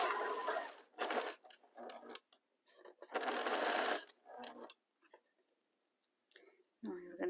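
A sewing machine stitching quilt fabric runs in several short bursts of uneven length, separated by quiet gaps and faint handling noises, all fairly close.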